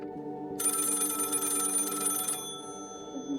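Telephone bell ringing in a radio play performance, a continuous electric ring lasting nearly two seconds over a steady low background hum, fairly loud and alone without speech.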